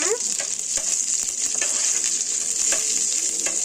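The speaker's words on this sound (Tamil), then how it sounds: "கிள்ளி வச்ச வரமிளகாவையும் கடுகு உளுந்த பருப்பையும் போட்டுடலாம் இதை கொஞ்சம் நல்லா வதக்கி விடுங்க" Dried red chillies, mustard seeds and urad dal sautéing in hot oil, a bright, loud crackling sizzle with small pops and stirring scrapes throughout, no voices.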